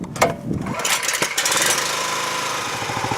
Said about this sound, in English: we're going to be using the dual action sickle bar mower to take care of the field behind me